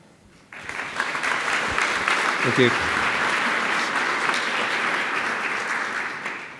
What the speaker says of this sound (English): big round of applause for Miguel.